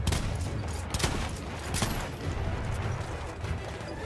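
A mounted machine gun in Battlefield 1 fires sustained, dense automatic bursts, loud and close with a few sharper cracks standing out over continuous battlefield rumble.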